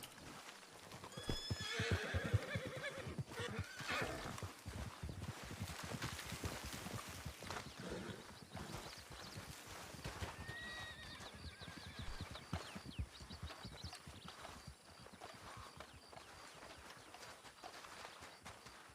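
Horses in a Wild West roleplay video game whinny several times while hooves clip-clop steadily away, fairly close at first and thinning toward the end, with no talk over them.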